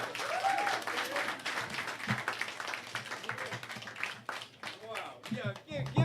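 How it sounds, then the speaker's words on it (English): Church congregation applauds after a worship song, the moderate clapping mixed with voices and cheers from the crowd. "Give him another round of applause."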